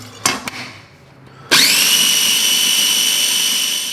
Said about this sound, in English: put them in a food processor to chop